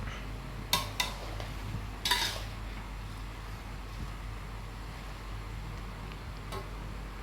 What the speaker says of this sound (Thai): ลวนไปให้มันสุกก่อนนะครับ แล้วค่อยเรามาเรามาผัดกันอีกทีนะครับ